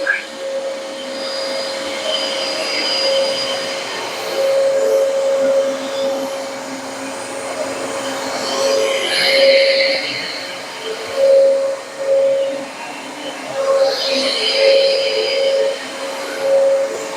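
A curbside-found vacuum cleaner fitted with a rug plate runs steadily nearby, a constant motor whine with shifting airflow as it moves across the floor.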